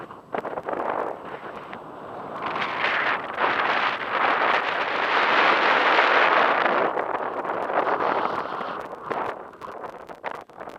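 Strong desert wind before a sandstorm in Morocco roars steadily against the microphone, swelling and gusting into a loud rushing blast in the middle before easing slightly, with no voices.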